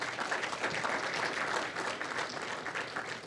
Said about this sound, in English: Let's give one more round of applause for our guest of honor, Kyle Pitts.